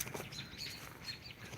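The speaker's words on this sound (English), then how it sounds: "And then the birds started singing." Wings flap close by in woodland, a burst of fluttering over a steady wash of faint bird chirps and songs that carries through the whole short moment.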